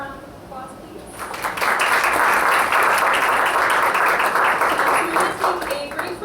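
Applause from a conference audience at an AI livestream event swells after about a second into loud, dense clapping that holds steady for several seconds, then eases slightly toward the end.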